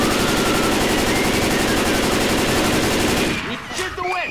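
Sustained automatic gunfire roars without a break in the zombie shooter game Left 4 Dead 2, loud and close, then cuts off and gives way to quieter game sounds.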